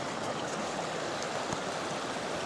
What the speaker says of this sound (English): We've got a nice little river here.